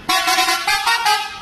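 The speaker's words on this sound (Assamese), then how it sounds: "ৱাহ কি ধুনীয়া হৰ্ণ" A loud horn on a Volvo multi-axle ASTC chartered bus honks close by at night in a few quick, tuneful bursts, musical and bright.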